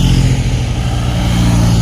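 Cars rolling past along a Tour de France roadside route, a steady loud engine hum and tyre roar filling the whole stretch with no pause.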